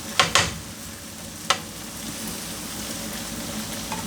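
Small potatoes frying in a non-stick pan for a bushman-style potato and egg frittata, a steady soft sizzle with a few sharp clicks of stirring near the start and another around halfway through.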